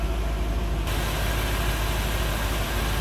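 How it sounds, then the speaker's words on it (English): A 1991 Chevrolet Corvette convertible with a stock LT1 350 V8 idles with a loud exhaust, a steady, close, dense rumble with no talking. "loud exhaust. Just what you'd expect for a stock Vet."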